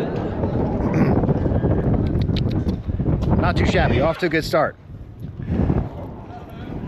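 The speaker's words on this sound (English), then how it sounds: "it's also incredibly windy up here" Gusty wind buffets the microphone with a steady low rumble at the Great Pyramid, while a person talks over it close by.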